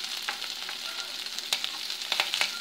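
Ginger sizzles in a hot pan while cooking mosambi rice, a continuous crackling hiss with scattered pops and light stirring taps, fairly close and without speech.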